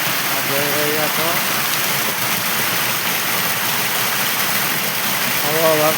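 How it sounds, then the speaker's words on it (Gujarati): Heavy monsoon downpour drums steadily and loudly across the whole stretch, with a voice talking briefly over the rain near the start and again at the end. "અત્યારે ચોમાસામાં પહેલી વાર આજે એટલો વરસાદ આવ્યો."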